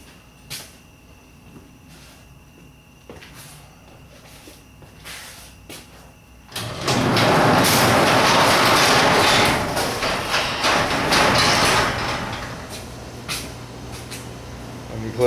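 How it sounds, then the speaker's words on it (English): A sliding mosquito screen door rolls shut indoors, a few soft clicks and knocks first, then a loud, sustained scraping rumble that lasts several seconds before easing off. "Alright, let me close the mosquito door."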